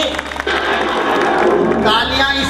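Applause from the audience at a Shree Shyam bhajan evening in Mainpuri, a dense continuous clapping wash lasting the whole moment, loud and steady with crowd noise mixed in.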